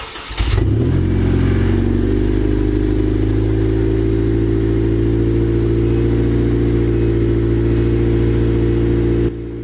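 A boosted Honda K-series engine with a new exhaust cranks and fires on its first startup, then settles into a loud, steady, deep idle that holds for several seconds.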